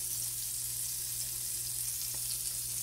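Chicken frying in hot oil: a continuous, even crackling sizzle with a steady low hum underneath, close and moderately loud, with no voices.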